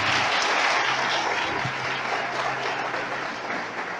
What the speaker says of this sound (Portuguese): Então dá a melhor salva de palmas à palavra.